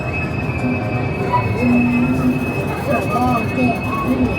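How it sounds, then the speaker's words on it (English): Train wheels squeal in long, high sustained tones over a steady rumble of rail cars passing close by at Knott's Berry Farm theme park. "That's a squeaky train."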